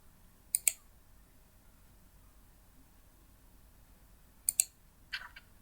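A computer mouse clicking in pairs, two quick sharp double clicks separated by a quiet pause and then another softer click, close and crisp over faint room hiss.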